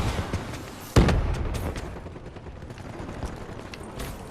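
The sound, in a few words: gunfire shooting a robot in Black Ops 3 video game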